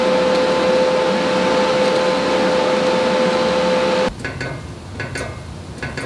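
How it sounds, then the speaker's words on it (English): A TIG torch on pulse setting welds a motorcycle fender made from a trailer fender, giving a loud, steady electric hum and hiss with a tonal whine. It stops abruptly partway through, leaving faint workshop noise. "All right, so I'm going at this with the TIG torch. I'm using the pulse setting on there as well."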